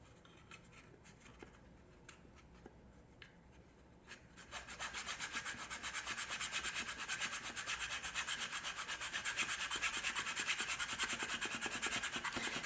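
A wooden plank on a model Norwegian sailing pram is sanded with the transom as a guide, at first a few light scrapes and then a continuous close rasping rub that goes on steadily.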